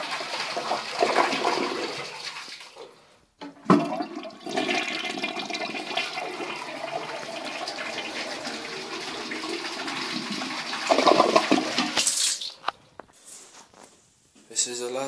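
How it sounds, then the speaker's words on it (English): A Mansfield Alto toilet flushes with a loud rushing roar of water, then a long steady swirl and refill gurgle close to the microphone, tapering near the end as the tank refills. "This is the last flush"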